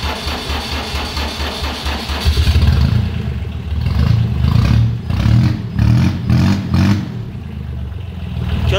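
A tractor fitted with an SC Project aftermarket exhaust silencer idles, then revs hard in repeated loud throbbing bursts, close to the microphone, with no talking.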